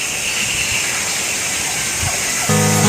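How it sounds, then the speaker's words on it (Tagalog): Water flows steadily in a wildlife park, giving a continuous broadband hiss like a fountain or stream, with a brief tonal call joining near the end. "May huni ng tubig."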